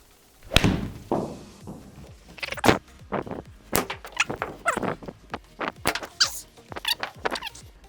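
Ping Blueprint irons strike golf balls in a series of about eight sharp, crisp impacts spaced a second or so apart, each a short, clear crack over a quiet background.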